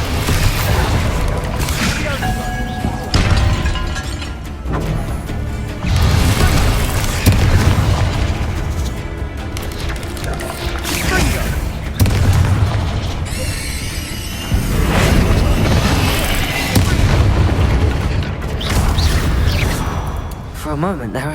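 Repeated loud booming blasts from the Bombarda explosion spell in the Hogwarts Legacy video game, several heavy bursts over twenty seconds layered with a rumbling game soundscape and a voice.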